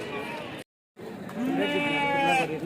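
A sheep bleats in a wavering, drawn-out cry after a brief cut in the sound, with people talking close by at a livestock market in Kadiri.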